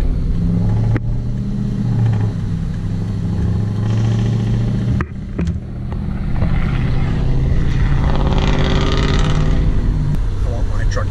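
Engine revs loudly nearby, rising and falling through several throttle blips with a couple of sharp knocks, while people talk over it.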